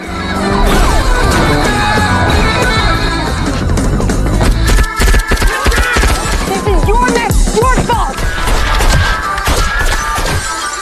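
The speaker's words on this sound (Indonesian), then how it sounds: "semua terpojok dan terjadi baku tembak" Gunfire in a shootout from the action film Baby Driver: dense, loud bursts of shots and impacts crowd together, with crashes and thuds over a continuous film soundtrack throughout.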